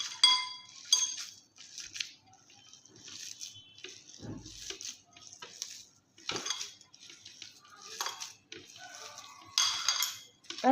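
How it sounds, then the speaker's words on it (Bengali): Soaked thin flattened rice (chira) is mixed by hand in a bowl, with close, intermittent clinks and scrapes against the bowl in irregular bursts and quiet gaps between, and no talking. "আমি এটা হাত দিয়ে ভালো করে মেখে নেব।"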